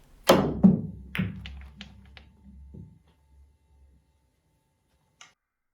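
A cue ball clipping the 8 ball thinly in a pool trick shot: a sharp close click, followed by a few lighter knocks and rolling taps fading out, with one faint tick a couple of seconds later.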